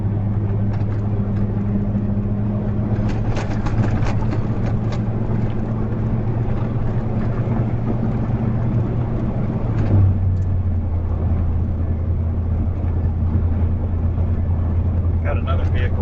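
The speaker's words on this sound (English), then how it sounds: "Got another vehicle coming." A car drives along a road in steady, loud cabin rumble with a low engine drone, and a passing vehicle swells briefly around the middle; a person talks over it.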